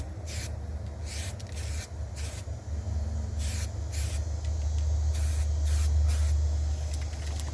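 Spray paint can applying light coats to Kawasaki Vulcan motorcycle parts, with several short hissing bursts in irregular rhythm over a constant low background rumble, close to the microphone.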